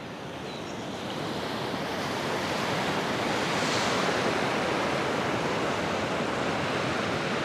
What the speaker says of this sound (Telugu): ఇది బాగా రివర్, సముద్రంలో కలిసే ప్రదేశం, అందుకే ఈ బీచ్కి బాగా బీచ్ అనే పేరు వచ్చింది